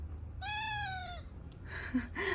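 A vintage Brazilian doll gives one drawn-out, wailing electronic cry lasting about a second, clear and fairly close, followed by faint rustling handling noises.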